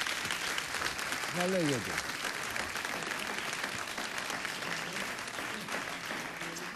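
Studio audience applause fills a television talk-show set, steady and dense throughout, with a brief voice speaking over it near the start.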